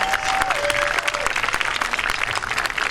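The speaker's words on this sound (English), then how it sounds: "One more round of applause for our wonderful flute players." A band concert crowd claps for the flute players in steady, dense applause that carries on throughout, with a faint thin tone sliding briefly near the start.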